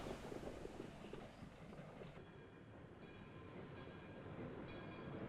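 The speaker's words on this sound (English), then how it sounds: "Cool, they got a train just for this shot." Train from the 1952 film High Noon rumbling past in a steady, loud, broadband roar with faint rail clatter and wind, continuous throughout with no talk.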